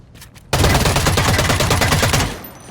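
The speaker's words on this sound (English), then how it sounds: "I got shot from the sides." Gunfire in EVE Vanguard, a futuristic extraction shooter: after a brief quiet start, a sudden loud burst of rapid automatic shots rattles on for about two seconds, then cuts off.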